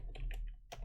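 Several quick, quiet keystrokes tapped on a computer keyboard, a short irregular burst of clicks close by with a brief pause before a final louder key press.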